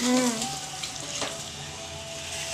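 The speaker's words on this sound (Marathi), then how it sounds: "आता आपण गरम पाणी टाकणार गरम पाणी टाकायचं" A pan of mutton sizzles and hisses as hot water is poured in, bubbling loudly near the microphone with no talking.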